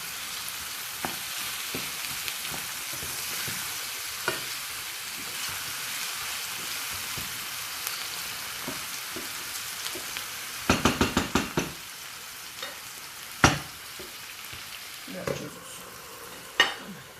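Chard and onion sauté in a pan with a steady soft sizzle, broken by scattered knocks and a quick burst of sharp utensil scrapes and clacks against the pan.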